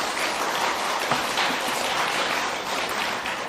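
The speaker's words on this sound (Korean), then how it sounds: "박수 치신다고 애쓰셔요." A lecture hall audience claps during a Buddhist Diamond Sutra talk, a dense, continuous wash of many hands close and loud, holding steady for several seconds.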